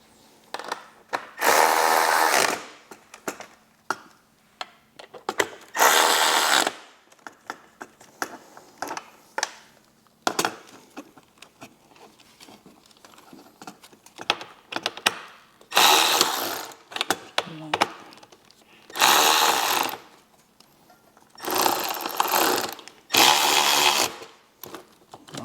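Power tool tightening fairing bolts on a Harley-Davidson motorcycle: repeated short, loud mechanical bursts close by, separated by pauses with handling noises and occasional faint speech.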